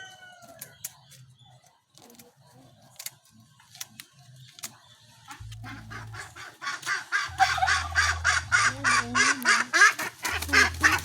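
Ducks kept as backyard pets quacking in a series of raspy calls that grow louder and more frequent toward the end, close by, following scattered ticks and clicks.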